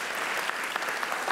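Audience applause at a culinary institute chef coat ceremony, a brief, even wash of many hands clapping close and steady with no talk.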